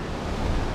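Sea waves at Charrana beach in northern Morocco, a steady broad wash of surf with some wind rumble, close and continuous without talk.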